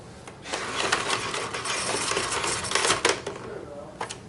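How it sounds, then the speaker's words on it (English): A Dyson DC22 vacuum cleaner's cord reel rewinds in a fast mechanical whirring rattle lasting about three seconds, close and fairly loud, then stops with a few faint clicks. "I will show you the cord reel, because the cord reel is good"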